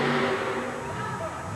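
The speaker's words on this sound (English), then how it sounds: "Listen to the sound of that engine, a supercharged alcohol burner." A supercharged alcohol-burning monster truck engine at a 1988 wheel-standing and sled-pulling event roars steadily with a dense, sustained drone, loud and continuous with a crowd or arena wash underneath.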